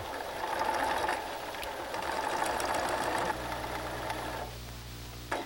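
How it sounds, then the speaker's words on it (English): Sewing machine with a walking foot stitching quilt fronts together with a quarter-inch seam: a steady mechanical whir that runs for a few seconds, then slows to a lower hum before stopping, with no talk. "Machine stitch the fronts together with a 1/4 inch seam."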